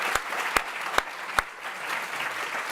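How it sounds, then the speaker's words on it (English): An audience at a California summit on generative AI applauds a panel: steady, dense clapping from a mid-sized crowd with a few sharp, close claps standing out, sustained through the short stretch with no talking. "Round of applause for our esteemed panel here."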